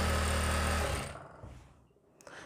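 A sewing machine runs loud and close while stitching a kurti, its steady motor hum fading and slowing to a stop after about a second, leaving faint mechanical rustle.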